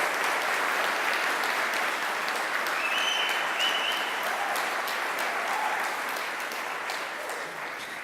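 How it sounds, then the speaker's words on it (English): Sustained applause from a graduation audience honoring hospital medical center interns, steady full clapping from a large crowd that slowly fades toward the end, with faint voices mixed in. "let's give another round of applause for the Cincinnati Children's Hospital Medical"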